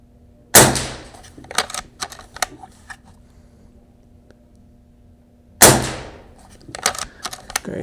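A budget air rifle fires twice at targets, each shot a sharp, loud crack several seconds apart, followed by scattered small clicks and pellet impacts in between.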